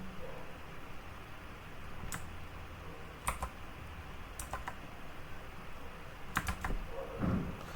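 Quiet typing on a computer keyboard, sparse clicks and short bursts of keystrokes scattered over a soft room hiss, close to the microphone.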